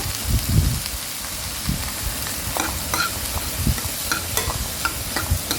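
Bottle gourd sautés in a pan for sambar, giving a continuous close sizzle with frequent scraping and tapping of a spoon as it is stirred, and no talk.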